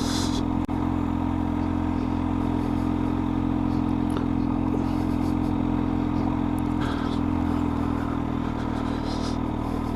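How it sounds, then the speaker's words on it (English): A Kawasaki H2 SX SE motorcycle engine runs at a high, steady drone close by, with constant wind rush and a faint clatter from a gravelly road surface. "Just sounds quite high revving at tick over."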